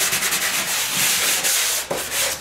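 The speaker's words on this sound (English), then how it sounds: "Lightly sand it out." Sandpaper rubs drywall joint compound on a finished corner, producing a continuous, close scratchy hiss in quick strokes.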